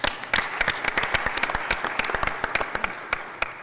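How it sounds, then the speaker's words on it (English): An audience at a financial sector conference claps in a sustained round of applause, many hands producing a dense, fairly close patter that holds steady throughout. "So a round of applause to the audience again."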